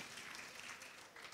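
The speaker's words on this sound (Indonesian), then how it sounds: "Berikan tepuk tangan" A church congregation applauds together in a dense, steady wash of clapping that fills the short moment, at a moderate and fairly distant level.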